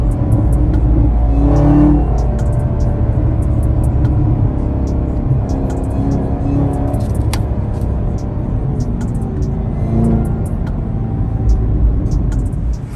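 A Chevrolet Camaro ZL1 V8 rumbles loudly and steadily while driving, with revs swelling around the second and tenth seconds over a continuous close engine drone, no talk.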